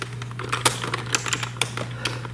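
Rapid clacking of keys on an ergonomic split-design wired computer keyboard, close and crisp with irregular key strikes over a steady low hum.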